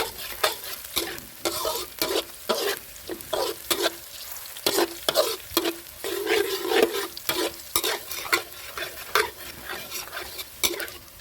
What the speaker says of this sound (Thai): ใส่กระเทียมสับเป็นกระเทียมไทยหนึ่งหัวครับผม ลงไปผัดให้เหลืองหอมเลยครับ